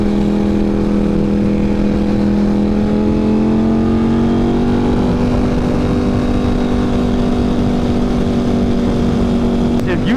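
A Ducati Panigale V4 motorcycle with an aftermarket exhaust holds a steady, loud droning engine note that rises slightly in pitch partway through, as if revving up, running continuously and close by.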